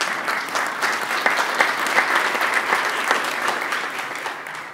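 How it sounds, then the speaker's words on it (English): A church congregation at an Easter Sunday service applauds the singers with a sustained burst of many hands clapping, steady and fairly loud, fading slightly at the end. "So round of applause for them."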